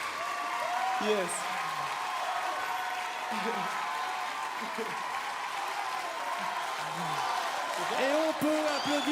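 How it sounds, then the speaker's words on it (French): Applause from a TV talent show audience after a song performance, a steady wash of clapping throughout at moderate level, with brief vocal sounds and a voice near the end. "on peut applaudir encore une fois Daniel"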